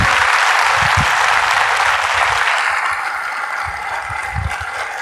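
Audience applause at a seminar, a dense, steady wash of clapping that fills the whole stretch and eases off slightly toward the end.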